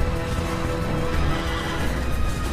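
A horse in Assassin's Creed gives a loud, close whinny over the quick clip-clop of hooves, with no voices on top.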